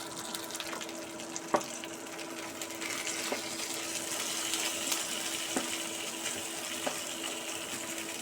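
Parshe fish fry in mustard oil, a soft steady sizzle running throughout with occasional faint clicks and taps, moderately close and with no voices.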